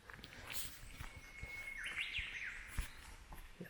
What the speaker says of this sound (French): Les oiseaux, tu sais, on les entend.